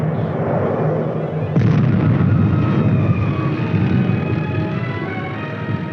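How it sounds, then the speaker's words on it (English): Artillery fire in a 1950s US Army combat exercise, a loud, dense rumbling barrage with a sharp blast partway through, followed by sustained heavy booming and roar. "the team commander asks that the artillery shift its fire to enemy positions on the flank and rear of the enemy's forces"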